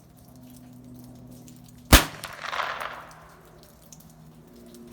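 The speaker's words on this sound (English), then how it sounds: "We're gonna do a few shots at 70 yards." A single sharp rifle shot from a scoped rifle fired at a 70-yard target, one loud crack followed by a short rumbling echo that fades, outdoors with a low steady hum in the background.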